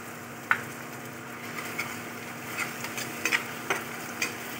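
Chicken chili mixture stirred in a frying pan, soft sizzling underneath with scattered light scraping taps of the spoon against the pan, steady and fairly quiet, no voices.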